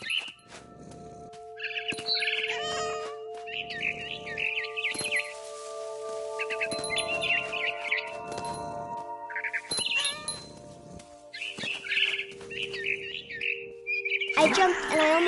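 A barn swallow chirps in What Remains of Edith Finch, giving bright, repeated twittering bursts broken by short pauses over a quiet musical drone, growing more agitated near the end.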